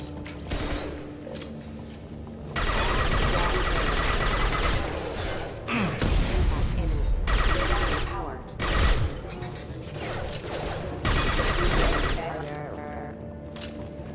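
Bursts of gunfire from a weapon in the video game Mass Effect 2, loud and repeated across the clip in several sustained volleys, mixed with mechanical clicks and other game sounds.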